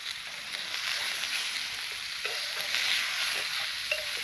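A steak sizzles in a cast iron Firebox 5-way Bushcraft cooker over an outdoor fire, giving a close, steady frying hiss with small crackles and no talking.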